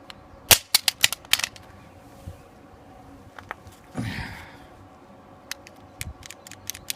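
A Taurus PT111 G2 pistol dropped on its side during a drop safety test, giving sharp, loud metallic clacks and a brief rattle, followed by a few lighter handling clicks at close range.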